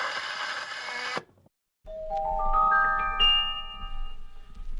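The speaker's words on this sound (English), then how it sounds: "You hear a doorbell ring." A doorbell-style chime rings out after a brief silence, a rising sequence of sustained electronic tones stacking up clearly and close, preceded by a burst of noisy sound.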